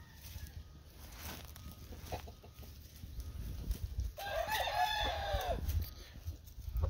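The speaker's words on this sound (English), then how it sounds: "This is the rooster we are going to raffle off to help the family of my friend that passed away." A single rooster lets out one clear crow midway through, fairly faint against a low rumbling background, with no talking.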